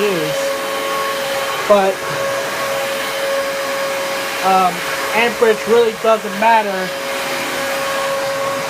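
A Dyson DC33 upright vacuum cleaner runs with a steady, loud whirring drone throughout while someone talks over it.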